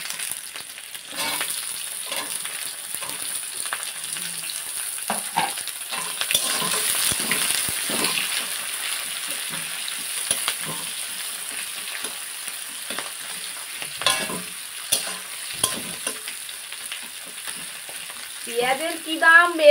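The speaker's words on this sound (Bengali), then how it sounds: "এবার আমি এতে দিয়ে দেব পেঁয়াজ কুচি।" Chopped onions frying in a pan with whole bay leaf, cinnamon and garam masala for a chicken dish, a steady close sizzle broken by scraping stir strokes, with a brief voice near the end.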